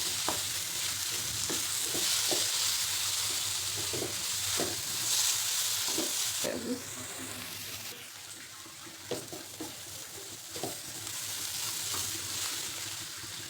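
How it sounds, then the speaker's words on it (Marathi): Carrot modak mixture stirred in a pan as a spoonful of ghee melts in, a continuous soft sizzle punctuated by repeated scraping strokes of the spoon, close and fairly quiet, with no voices. "तर यामध्ये अजून आपल्याला एक चमचा तूप घालायचे तर तूप वितळेला मिक्स करून घ्यायचं"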